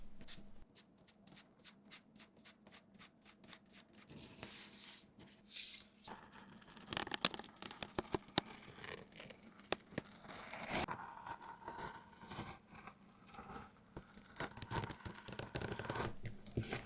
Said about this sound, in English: Print and cut out your pattern, transfer it on the leather and cut out that as well.